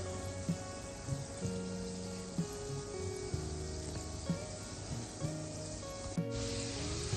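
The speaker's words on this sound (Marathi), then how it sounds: "मीडियम फ्लेममध्ये हे आपण फ्राय केलं म्हणजे आतूनही चांगले तळले गेले" Gulab jamun dumplings fry in hot oil over a medium flame, a steady soft sizzle running beneath tonal background music, with a few light knocks and a brief burst near the end.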